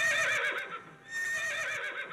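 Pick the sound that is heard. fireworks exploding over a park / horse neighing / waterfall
horse neighing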